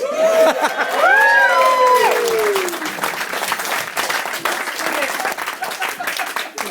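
A wedding crowd breaks into loud sustained applause for the bridesmaids, with cheering and a few whoops rising over the clapping before it gradually thins out.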